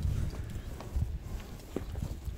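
A horse walks near a racing ground by Jalal-Abad, and its hooves clip-clop in a loose, uneven rhythm of several close, dull thuds over faint background murmur.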